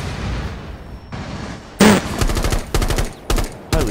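Gunfire in Rainbow Six Siege: a sharp close shot followed by several loud rapid bursts of automatic fire, separated by brief pauses.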